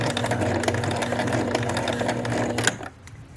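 A sewing machine stitches a pant hem with a false cuff, first running forward and then backstitching. The needle chatters in a rapid, steady mechanical rhythm close by and stops abruptly near the end.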